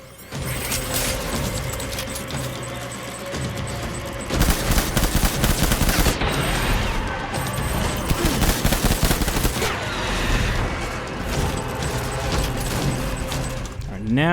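Sustained gunfire in the Death Stranding video game during a boss fight, dense rapid bursts rattling loudly and almost continuously, with a voice talking over the shooting.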